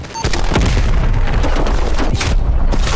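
Loud, close gunfire and booming impacts from the shooter Call of Duty: Black Ops Cold War fill a few seconds, dense and continuous with sharp bursts layered over a rumbling low end.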